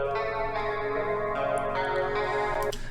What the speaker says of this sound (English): This is just the guitar part.